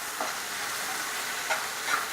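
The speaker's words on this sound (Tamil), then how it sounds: "நம்ம வெங்காயம் போடலாம். இது கொஞ்சம் நல்லா வேகணும்." Chopped onions sizzle steadily in a hot pan for a chicken fry, a continuous hiss with a few faint scraping stirs, heard close with no talking.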